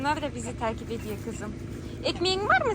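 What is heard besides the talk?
No everyday noise stands out behind the speech.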